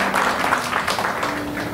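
A church congregation breaks into soft, scattered applause, a dense patter of clapping that stays steady and moderately quiet throughout.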